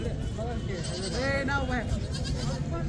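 Several goat bleats rise and fall close by at a Monday goat market in Kalamb, over a constant low hum and background chatter.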